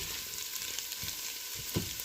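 Soup ingredients brown in a pot for asparagus soup, a soft steady frying hiss with a few dull knocks of stirring, fairly quiet and free of speech.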